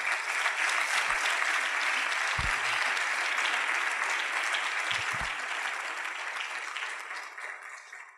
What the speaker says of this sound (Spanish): Démosle un aplauso al Señor antes de empezar.